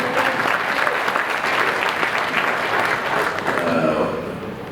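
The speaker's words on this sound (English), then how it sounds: "so another clap for us." Sustained applause from a conference audience at an African disability and community development gathering, steady and full throughout, easing slightly at the end, with faint voices mixed in.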